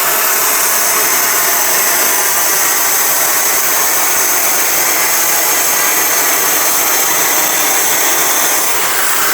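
A Neakasa vacuum clothes steamer runs with its suction on, a loud, steady broadband whoosh and motor hum that holds unchanged throughout.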